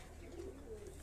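In a loft of fantail and flying pigeons, soft low coos rise faintly from a quiet, slightly hissy background over about a second.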